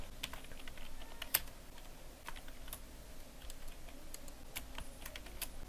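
Typing on a computer keyboard while entering text in a Microsoft Word document, quiet irregular key clicks with a few sharper taps, close and steady over faint room noise.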